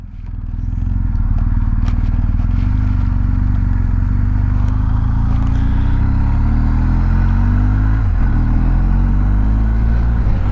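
A new BMW GS motorcycle ridden during break-in, its engine droning steadily and loudly throughout with shifting rev tones, a brief dip and recovery near the end, and wind and road noise mixed in.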